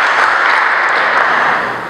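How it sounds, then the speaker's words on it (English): A church congregation claps together during a sermon, a loud, dense burst of applause lasting about two seconds before tapering slightly at the end. "give him a clap offering today"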